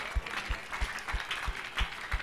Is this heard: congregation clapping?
yes